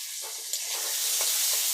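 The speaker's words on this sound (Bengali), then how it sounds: "আলুগুলো এবার ভালো করে ভেজে নেব" Potatoes frying in hot oil in a wok, a steady bright sizzle with occasional stirring scrapes, close and continuous with no voices.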